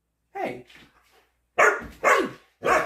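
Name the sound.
golden doodle dog barking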